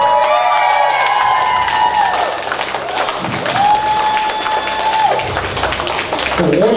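Applause and cheering fill a hall at a 20-year reunion evening as people honour an elder, a dense crowd of clapping mixed with voices and a sustained musical tone running through.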